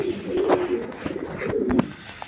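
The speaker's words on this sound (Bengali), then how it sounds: "আরেক পেয়ার হাই হাই ফ্লাইং গিরিবাস কবুতর আছে দেখেন" Giribaz high-flying pigeons coo in soft, repeated throaty calls close by, alone without talk, over a steady background hum.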